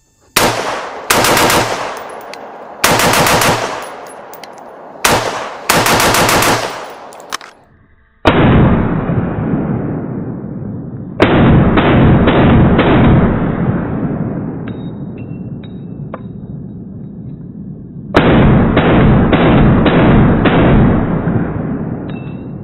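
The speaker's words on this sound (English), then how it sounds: "We're just shooting out the berm." Gunfire at a shooting range berm during a 3-gun competition equipment test: loud, close bursts of rapid shots with brief gaps, then long sustained strings of fire.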